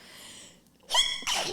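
One sharp sneeze from a person, preceded by a soft inhale, close and clear in a quiet room.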